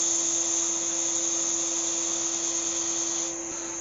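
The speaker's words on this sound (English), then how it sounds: "I'll just quickly sand that down." Sanding a turned wooden Christmas ornament spinning on a lathe, a steady whining hum that holds at an even, fairly loud level throughout with no pauses and no voices.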